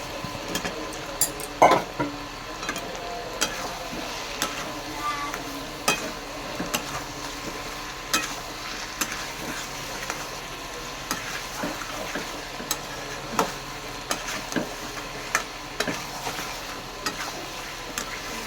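Potatoes frying and being stirred into cooked-down mutton curry, a soft continuous sizzle under repeated scraping and clinking of a spoon against the pot at an irregular pace.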